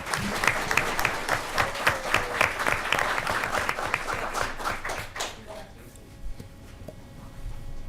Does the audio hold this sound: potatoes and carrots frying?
no